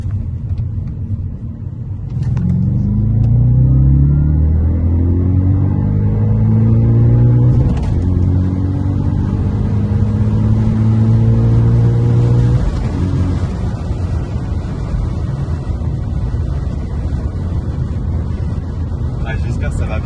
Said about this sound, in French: je vais pouvoir vous faire une bête d'accélération. On va faire un petit départ en deux, bien dynamique